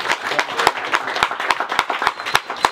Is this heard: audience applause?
yes